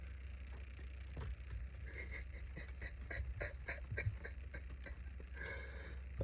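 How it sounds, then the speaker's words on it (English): A dog panting and whimpering nearby, with short breathy bursts and faint whines over a low background rumble. "Dog."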